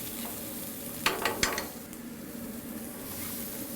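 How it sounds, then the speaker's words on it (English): Zucchini and asparagus sauté with garlic in a pan, a soft, even sizzle that runs throughout, with a brief cluster of utensil clinks and scrapes early on and no voices. "we're gonna saute that with a little bit of garlic"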